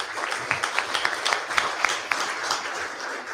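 Audience applause at a NebPreps volleyball awards ceremony: a steady wash of clapping from a crowd, with sharper individual claps popping through, moderately loud and continuous throughout.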